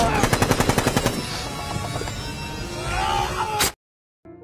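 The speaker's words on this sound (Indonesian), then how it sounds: "Joe Enders langsung menembaki para tentara Jepang yang ada di hadapannya" A war film battle scene in which a soldier opens up on Japanese troops, with a close, rapid burst of machine-gun fire followed by a dense roar of gunfire and commotion that cuts off abruptly.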